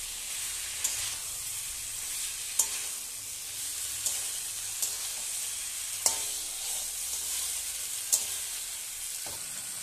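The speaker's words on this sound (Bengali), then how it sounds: "এবার আমি এতে দিয়ে দিব ভেজে রাখা আলু আর ফুলকপি। মশলার সাথে এখন ভালোভাবে মিশিয়ে নেব।" Fried potatoes and cauliflower stirred into spices in a pan for an aloo phulkopi katla fish curry: a soft, continuous sizzle with periodic scraping clinks of a spoon against the pan, fairly quiet and without talk.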